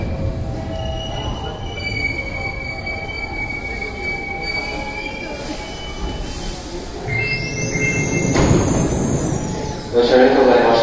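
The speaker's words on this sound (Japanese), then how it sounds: "1番ホームに到着の電車は、特急新開地行きです。" A Hankyu 8000 series train, set 8002F, pulls into Kobe-Sannomiya station, its wheels squealing in long high-pitched whines over a rumbling roll as it brakes, with platform announcements heard underneath.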